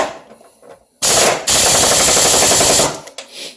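An impact wrench tightens motor mount bolts on a 2003 Pontiac Grand Am with the 3.4 engine: two loud, close bursts of rapid hammering, a short one near the start and then a sustained rattle of about a second and a half.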